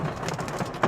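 A dense patter of hailstones drums on a car roof, steady and close, with a slightly louder hit near the end.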